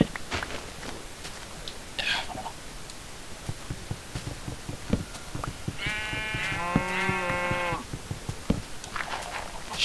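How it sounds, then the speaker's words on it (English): Sheep bleating in a video game, with one clear, drawn-out bleat in the middle set among soft footstep-like taps and rustles, and a few short higher cries before and after. "Sheep."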